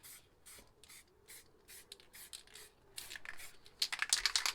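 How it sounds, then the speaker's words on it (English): A spray paint can hisses in a string of short, light bursts aimed toward a lid, several quick puffs that grow louder and denser toward the end. "So same, just spray towards the lid, lightly."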